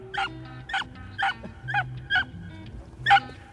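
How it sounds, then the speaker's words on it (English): Beagles bark and yip as they chase rabbits in the field. Sharp, evenly spaced yelps come about every half second, six in a row, at moderate distance over faint background rumble. "here comes the beagle"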